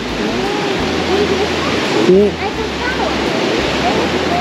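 Steady rushing of water pouring into a natural swimming pool at Apanteos in Santa Ana, El Salvador, a loud continuous splash close by, with voices talking over it.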